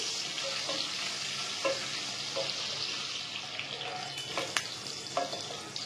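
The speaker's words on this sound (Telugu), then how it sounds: "అన్ని వైపులా బాగా వేగేలాగైతే వేయించుకోవాలి." Boiled eggs fry in oil with turmeric in a pan, a soft, steady sizzle with occasional spatula scrapes and light clicks, close and fairly quiet, with no voices.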